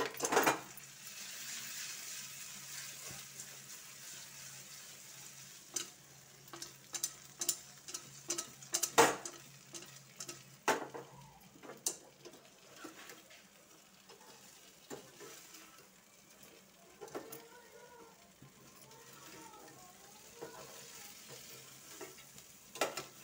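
A spoon stirs a mixture of rice flour and dal in a bowl, with scattered scrapes and clinks against the bowl that come in irregular bursts over a quiet room background, with no talking.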